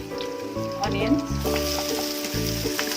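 Onions and green chilli frying in hot oil left over from frying eggs, a steady close sizzle with stirring scrapes and faint music-like tones underneath.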